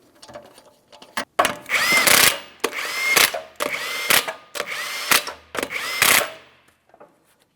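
A power tool driving 21mm lug nuts onto a Toyota Matrix wheel, five loud close whirring and ratcheting bursts separated by short pauses.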